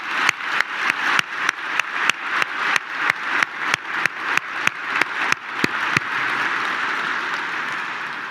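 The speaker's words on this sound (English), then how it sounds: "we're going to give Michael Lewis a huge, big round of applause for accepting our invitation" A conference audience gives a round of applause for a guest speaker at an economics event, starting as a sparse series of loud, distinct claps and swelling into a dense, steady ovation that fills the room.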